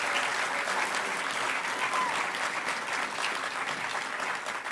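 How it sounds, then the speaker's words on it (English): Sustained applause from a hacker conference audience at its closing ceremony, a big crowd clapping steadily and evenly for several seconds, full and continuous without pauses. "give yourselves a round of applause."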